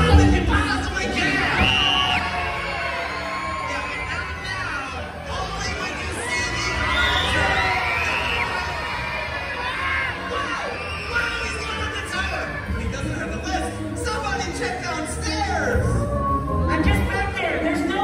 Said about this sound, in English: I need you to point and scream as loud as you possibly can.